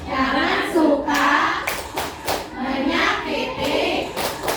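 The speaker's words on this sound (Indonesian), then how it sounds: "Tepuk anti buli ya." Children in a classroom perform a rhythmic anti-bullying clapping chant, voices singing in unison with bursts of hand claps marking the beat, loud and close.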